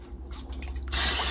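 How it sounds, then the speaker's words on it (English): Cooking oil spray hisses from a can onto a basic loaf pan for banana bread, a loud, steady burst that begins abruptly after a second of quieter handling noises and continues alone to the end. "oil spray just to grease it up"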